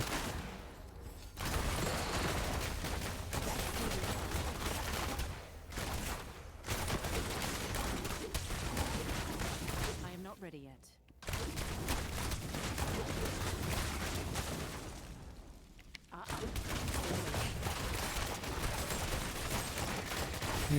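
Rapid automatic gunfire from a Demon Hunter in the action game Diablo Immortal, loud continuous bursts broken by a few brief pauses, dense and close throughout.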